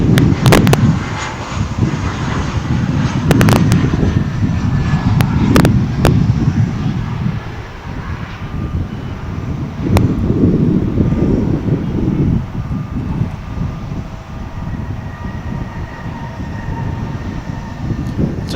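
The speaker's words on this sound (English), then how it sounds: "It's another American Eagle Embraer 175." An American Eagle Embraer 175 jet airliner at DFW airport rumbles loud and close, a heavy low engine roar with sharp clanks and knocks scattered through it, easing slightly before surging again.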